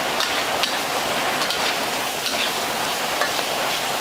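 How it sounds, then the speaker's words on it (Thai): Pork stir-frying in hot oil in a wok for a pork dish with red fermented tofu, giving a steady, dense sizzle throughout with no talking. "หมูลงไปรวนน้ำมันออกสักนิดก่อน"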